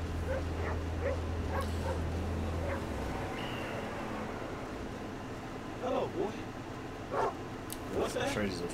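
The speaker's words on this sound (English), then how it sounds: "Ah, this is a dog." A dog yips and barks in short, scattered bursts over a steady background hum, with a few whimpering high calls toward the end, moderately loud and intermittent.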